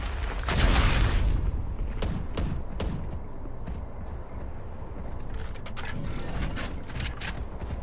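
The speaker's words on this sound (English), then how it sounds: "Reloading." Weapon reload in Valorant, a cluster of mechanical clicks and clacks near the start followed by scattered metallic ticks and snaps over a low background rumble, no speech.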